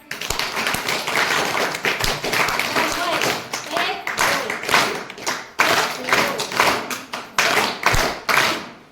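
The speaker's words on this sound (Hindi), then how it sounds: "तो आपके लिए स्पेशल तालियां आप लोगों के द्वारा बजाई जाएंगी" An audience at a Women's Day celebration claps together in short rhythmic bursts, the sharp hand claps loud and close, with people talking over and between them.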